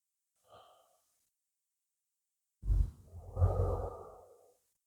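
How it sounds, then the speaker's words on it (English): Slow, smooth breathing during a gentle yoga abdominal exercise: a faint short breath comes first, then after a pause a long, heavier exhale drifts out for about two seconds, close and without speech. "Breathing long, smooth breaths."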